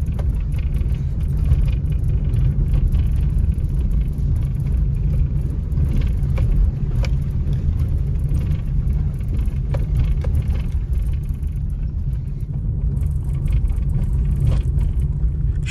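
A Swift Dzire sedan drives over a rough, unpaved dirt road in the hills of Sirmaur, heard from inside the car as a constant low engine and road rumble with light jolts and knocks throughout.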